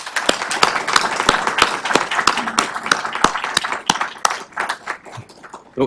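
A round of applause at an energy utility's board of trustees meeting, with a small group clapping in sharp, distinct, uneven claps that thin out toward the end.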